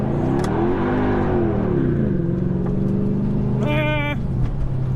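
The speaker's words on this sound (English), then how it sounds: "Burnout and the CLK55 AMG." Mercedes CLK55 AMG engine held at a loud, steady rev during a burnout, the pitch rising and falling before settling into a constant drone, with a brief high whine near the end.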